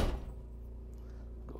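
Door on a 2020 Newmar Bay Star Sport RV shutting with one soft thud, followed by a low steady hum and a faint click near the end as it is locked, heard close.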